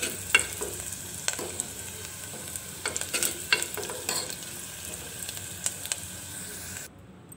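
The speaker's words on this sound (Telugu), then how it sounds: "ఇలా తిరుగుబాత ఇందులో వేసుకొని పప్పులో కలుపుకోవాలి." A fried onion tempering is stirred into a leafy greens dal, giving soft wet stirring and scraping strokes over a low sizzle, close by, with intermittent sharper clinks. The sound ends abruptly near the close.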